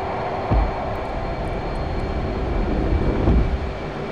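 F/A-18C jet in the DCS flight simulator roaring steadily on takeoff, a loud continuous engine rumble with broadband hiss and slight swells, no speech.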